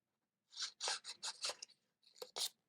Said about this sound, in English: now I have my transfer tape, and I'm just going to trim that down